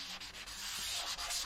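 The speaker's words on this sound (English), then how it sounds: "I like to just press nice and lightly with the sanding sponge" Steady scratchy rasping of a sanding sponge rubbed over drywall, continuous with slight dips in the strokes, close up and no voices.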